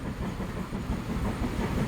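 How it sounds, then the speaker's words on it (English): Passenger train departing in the game Transport Fever 2, a steady rumbling clickety-clack of rail wheels with a faint hiss, continuous and close throughout. "Passenger train's off."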